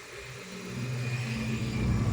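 A manual car reverses slowly, its engine a soft, steady hum that swells slightly as it moves, faint and fairly distant, with no talking.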